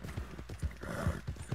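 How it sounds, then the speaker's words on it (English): Horse hooves clip-clop at a steady trot in the video game Red Dead Online, soft rhythmic thuds fairly quiet and close, with faint game ambience behind. "My horse is still good on stamina, although she doesn't like it."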